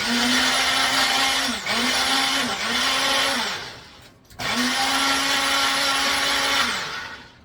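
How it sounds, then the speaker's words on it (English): A small blender chopping vegetables whirs loudly in several bursts, pausing briefly between pulses, then runs again in a longer steady spin. "I put them inside my little blender, which I'm going to go ahead and chop that up"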